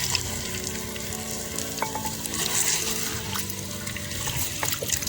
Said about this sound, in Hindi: पानी ऐड करेंगे।